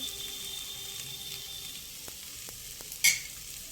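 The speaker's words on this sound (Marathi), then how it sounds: "हा असा परतून झाला आहे, छान भाजून झालेले आहेत तांदूळ." Rice is roasted and stirred in a pan for veg pulao, a faint low sizzle with a few soft scraping strokes and one sharp clink near the end, and no talking.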